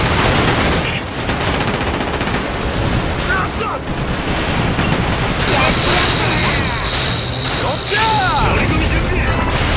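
Rapid bursts of ship laser-cannon fire in the video game Like A Dragon: Pirate Yakuza in Hawaii crackle and boom in quick succession, loud and dense, with sweeping electronic zaps layered over the din.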